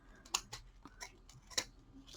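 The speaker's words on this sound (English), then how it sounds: "I'm just going to kind of trim these edges a little bit" Scissors trimming ribbon edges on a vintage ornament canvas: a few quick, close snips and crisp clicks in an irregular rhythm, with no talking.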